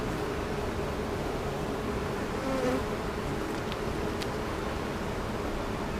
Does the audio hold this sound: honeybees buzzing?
yes